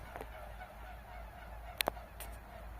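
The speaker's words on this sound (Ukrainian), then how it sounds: "Ой, гуси красиво" Two quick honks of geese in close succession, fairly distant, over a steady low outdoor rumble.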